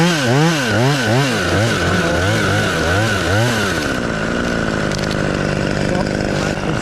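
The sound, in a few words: chainsaw cutting a small tree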